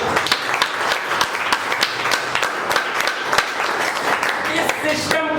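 At a business leaders' meeting, an audience breaks into lively applause, steady overlapping claps with some voices mixed in.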